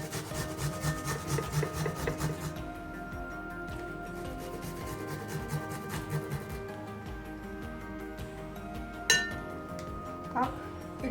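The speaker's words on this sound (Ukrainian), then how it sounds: "на дрібній терці або передусити через чеснокодавку. Два зубки чеснику." Two garlic cloves rubbed against a fine kitchen grater, giving quiet rhythmic rasping strokes up close, followed by a few light clinks of the grater and utensils near the end.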